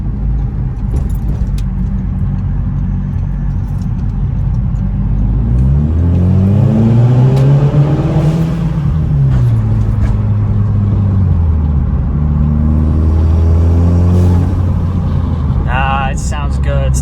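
A bagged Audi with a new intake accelerates and shifts repeatedly, with a fluttering turbo chatter between revs and a voice speaking over the steady road roar.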